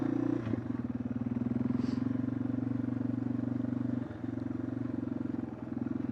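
A motorcycle rolls along very slowly, its engine putting out a steady low throbbing idle-like rumble with a slight dip near the end, close and continuous.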